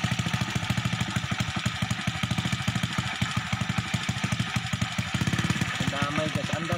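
Small motorcycle engine running with a homemade DIY CDI ignition, a fast steady putter with rapid firing pulses, close and fairly loud, a voice talking over it throughout.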